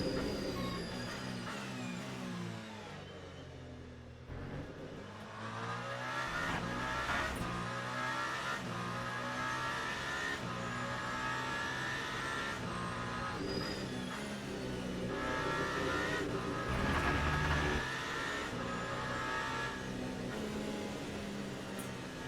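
A race car engine in the sim game Le Mans Ultimate drones steadily and loudly through the whole stretch, with rising and falling revs and shifts, no voices over it.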